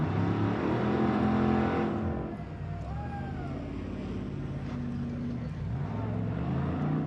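An off-road race car at the King of the Hammers event climbing over rocks, its engine loud and revving at first, then settling into a lower steady drone, with a commentator talking over it.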